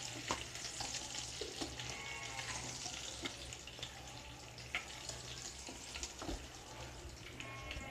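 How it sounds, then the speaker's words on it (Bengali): Whole pointed gourds (potol) fry in plenty of oil in a pan, giving a steady close sizzle broken by frequent clicks of stirring. "পটলগুলো আমি এইভাবে লাল করে ভেজে নিয়েছি"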